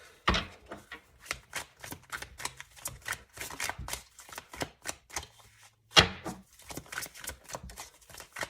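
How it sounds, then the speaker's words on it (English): Tarot cards are shuffled by hand up close, an uneven run of crisp flicks and taps with two sharper slaps along the way. "I'm just going to keep shuffling until we can grab 3 more cards for you guys"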